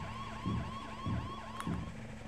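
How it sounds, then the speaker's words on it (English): Toy police-style vehicle siren in The Lego Movie Video Game, a fairly faint up-and-down wail that repeats about three times with soft low thumps at each cycle. "Does have the siren. Can you hear the siren?"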